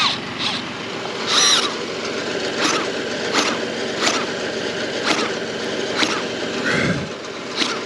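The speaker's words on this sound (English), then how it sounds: "this is my drill. It's actually my personal drill." A cordless drill works a bolt loose from reused lumber in short repeated bursts, a rhythmic series of close, buzzing pulses with small pauses between them.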